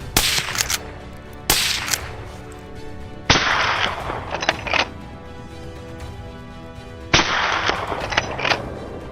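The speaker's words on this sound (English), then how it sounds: "As the boars charged out, I fired. Gunshots echoed, breaking the forest silence." Three or four loud hunting gunshots crack through a frozen winter forest during a wild boar hunt, each sharp blast trailing off into a long echoing decay, spaced a few seconds apart with no talk.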